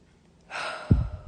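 A single deep breath drawn in through the mouth, a soft rushing inhale rising and holding, then a low breathy release close to the listener.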